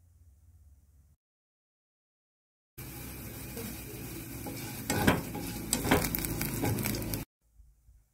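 Curry leaves, green chillies and crushed garlic frying in hot oil for a Sri Lankan tempered mushroom dish, a steady broadband sizzle with clinks and stirring scrapes, bracketed by brief quiet stretches.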